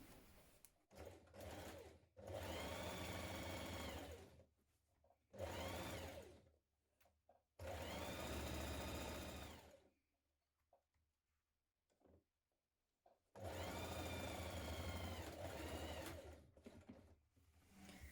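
A sewing machine runs a dress seam in several bursts of steady whirring stitching, with short pauses between runs and a long pause in the middle.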